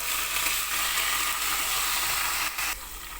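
Bay leaf, curry leaves and coriander sizzling in hot oil in a pan for a traditional Marathi amti, a steady close hiss with a brief stir or clatter near the end.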